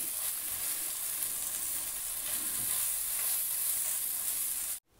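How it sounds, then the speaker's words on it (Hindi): Ketchup being stirred into a chicken and vegetable filling in a hot pan gives a steady, close sizzle with soft scraping, no voices, cutting off abruptly at the end. "टू टेबल स्पून कैचअप डालूंगी और इसे अच्छी तरह मिक्स कर लूँगी"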